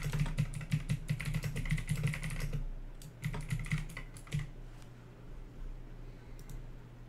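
Computer keyboard typing in quick bursts of clicks, close and fairly loud, pausing briefly and resuming, over a steady low background hum, with no talk.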